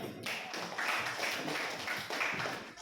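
Classroom audience clapping after a math presentation on solving systems of equations, a scattered, moderately quiet patter of handclaps running steadily throughout.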